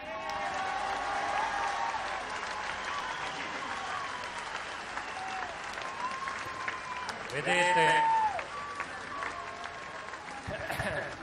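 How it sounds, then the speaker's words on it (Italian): Large crowd at an outdoor political demonstration in Rome applauds and cheers steadily, with someone speaking over the clapping and occasional whistles rising from the crowd. "questo applauso non va a me."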